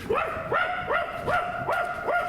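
A female dog barks repeatedly in a quick, regular series of about six sharp, close, loud barks, standing alone without talk, in a theatre staging.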